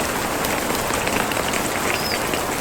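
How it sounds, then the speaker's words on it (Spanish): Rain driven by wind pours onto tarps stretched over a family campsite at a reservoir during a storm, a dense, steady hiss of drops drumming on the plastic, loud and continuous with no voices. "estaba lloviendo con aire"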